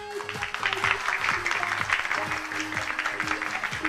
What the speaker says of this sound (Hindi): आपकी तालियां बताएगी कि सबसे अच्छा किसने